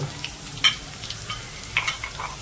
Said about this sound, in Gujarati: ડુંગળી જો દોસ્તો આપણી ફ્રાય થઈ ગઈ છે મસ્ત